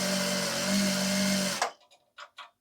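A Juki DDL-7000A industrial sewing machine hums steadily and fairly loudly, then cuts off abruptly partway through, leaving a few faint short clicks and taps. No one speaks.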